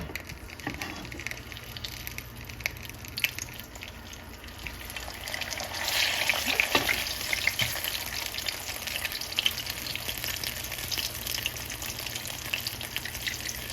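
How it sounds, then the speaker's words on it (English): Oyster mushroom pieces coated in flour fry in grapeseed oil, giving a steady, close crackling sizzle that swells for a moment midway, with no voices. "So I'm going to let this go for about 3 minutes and turn it on each side and just get it, you know, crisp"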